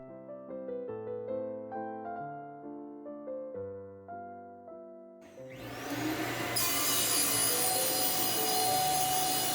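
A panel table saw makes a test cut through material, its motor rising into a loud, sustained broadband roar that starts abruptly midway and holds steady, preceded by tonal music-like sounds.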